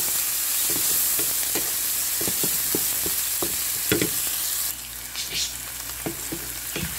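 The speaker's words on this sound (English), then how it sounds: "Then give a good stir." Rainbow trout steak sizzles steadily in a hot pan while a utensil scrapes and knocks through it in a loose rhythm of close, distinct stirring strokes, with the hiss easing slightly near the end.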